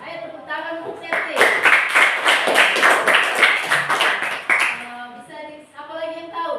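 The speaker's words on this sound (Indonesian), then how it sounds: "Ayo tepuk tangan untuk Septi." A short round of applause from a group, bright rapid clapping for about three seconds, with voices talking before and after.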